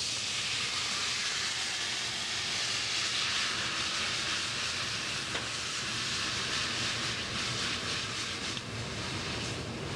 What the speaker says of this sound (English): we'll start with our first addition of liquid, which will be the white wine